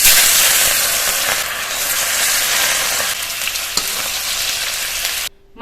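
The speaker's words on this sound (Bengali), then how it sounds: "গরম তেলে মাছ দিয়ে দেব।" Pieces of rohu fish sizzle loudly in hot mustard oil in a kadai, a dense, steady crackle close up that holds for about five seconds and then cuts off abruptly.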